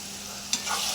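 Onion, green chilli, capsicum and tomato fry in a pan, giving a steady broadband sizzle with a single sharp scrape of stirring midway, close and fairly loud, with no talking.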